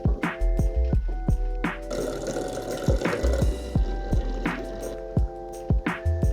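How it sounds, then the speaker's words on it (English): Apple cider poured straight into bottles, with a run of sharp glugs, drips and splashes in an uneven rhythm, close and fairly loud, with no talking. "directly pouring it into your bottles like I'm doing"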